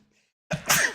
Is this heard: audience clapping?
no